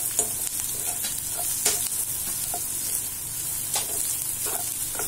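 Onions sautéing and being stirred in a pan for paneer bhurji, a soft steady sizzle broken by scraping spoon strokes at irregular intervals, with no talk.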